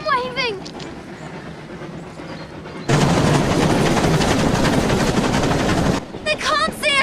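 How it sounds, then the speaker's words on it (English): A train rounds a corner with a sudden loud, dense rumbling roar that sweeps in and holds steady for about three seconds, framed by birdsong and outdoor ambience on either side. "When the train gets round the corner,"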